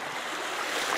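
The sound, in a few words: rushing water of the Rhine in Mannheim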